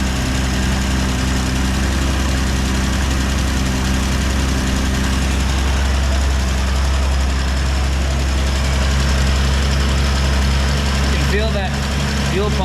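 A 1965 Ford Falcon engine idles steadily and loudly for the whole stretch, with an even mechanical rumble and no change in pace.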